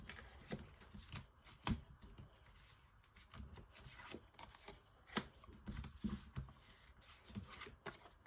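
Tarot cards are shuffled for a five-card spread, giving soft, faint riffling and rubbing with scattered light taps and slaps, close by and uneven in rhythm.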